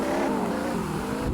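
Car engine in the Roblox video game driving on a farm, a steady droning motor with continuous revving tone, loud and close for a brief moment with no voices.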